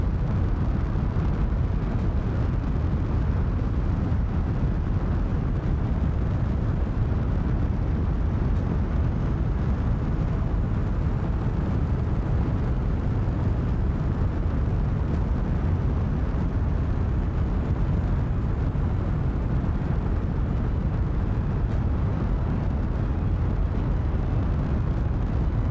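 Rocket engine roaring at launch in Kerbal Space Program 2: a loud, dense, continuous rumbling blast holding steady from start to finish, with no voices over it.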